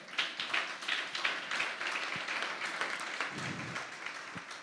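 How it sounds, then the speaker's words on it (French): A church congregation applauding, with dense, steady clapping from many hands filling the room at moderate loudness, and a few louder claps standing out near the end. "On applaudit bon Dieu."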